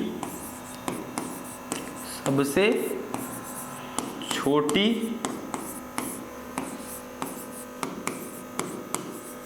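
Marker or chalk writing on a board in a Hindi-language physics lesson on electromagnetic waves, with steady scratchy strokes and regular taps near the writer and a teacher talking between the strokes.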